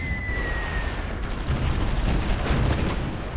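An airstrike pounds a group of tanks in the strategy game Supreme Ruler Ultimate, as a steady roar of explosions swells abruptly and keeps rumbling, loud and continuous.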